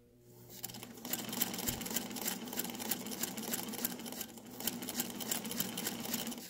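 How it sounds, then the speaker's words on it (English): A Singer Featherweight sewing machine runs steadily, stitching fabric under a quarter inch foot with a continuous close mechanical whir and rapid needle chatter that starts after a brief quiet moment and holds for several seconds. "we'll go ahead and start sewing so you can see how this foot works"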